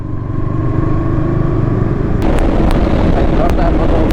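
A Bajaj NS200 motorcycle (BS6 or BS7 version) engine revving hard near top speed, a loud steady roar with rushing wind noise that intensifies partway through.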